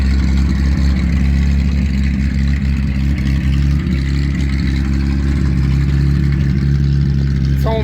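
A 1976 Ford Mustang II Cobra engine runs with only head pipes and no catalytic converters or other exhaust, a loud, raw, steady drone at roughly constant speed, with no one talking over it.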